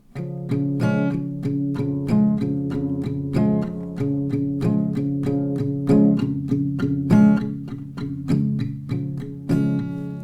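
Acoustic guitar strummed in a repeating pattern, bass notes alternating with brighter chord strokes and accented hits from the back of the strumming hand, played alone and close.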